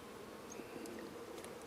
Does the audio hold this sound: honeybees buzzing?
yes